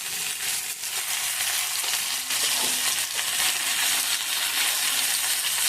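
Mixed vegetables for shukto fry in a pan, a dense, steady sizzle with occasional crackles and scraping stirs, close and continuous without any talk.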